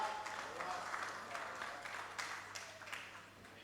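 Audience applause at the 9th National Rastafari Conference welcoming a speaker to the high table, a faint, steady patter of clapping from a distant room that stays even across the whole stretch.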